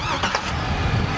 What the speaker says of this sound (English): This is the 2003 Chevy Silverado SS.